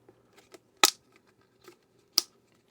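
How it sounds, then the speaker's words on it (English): A plastic Snake Mountain playset piece gives two sharp, close clicks about a second apart, with faint handling taps between them and no voices. "There is a click"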